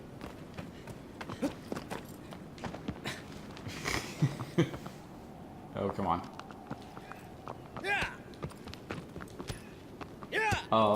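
Rapid hoofbeats of a galloping horse in the video game Shadow of the Colossus, with a person muttering briefly over the running clatter.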